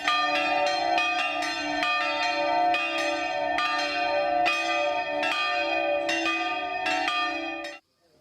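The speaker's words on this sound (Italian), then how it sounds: "campane a festa hanno suonato" Church bells peal in celebration, a steady run of sustained, overlapping rings with regular strikes, loud and close, stopping abruptly near the end.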